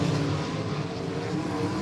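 Race cars roar around the I-96 Speedway oval in a steady, loud engine drone, several motors blending into one continuous rumble without a break.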